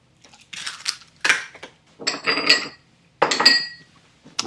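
Eggs cracked one after another against a bowl for a gluten-free peach crostata batter with sugar, giving sharp close clinks and cracks in several separate bursts, with no talking.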